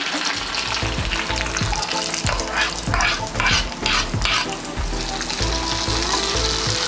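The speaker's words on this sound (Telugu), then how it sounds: "సో మినపప్పు మంచిగా ఫ్రై అయిపోయింది చూసారు కదా" Urad dal and curry leaves sizzle in hot oil for a tempering, a busy continuous crackle and spit with occasional stirring scrapes, close and steady throughout.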